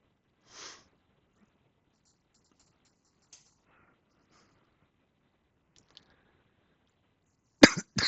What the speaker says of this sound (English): I'm not supposed to cough on the voiceover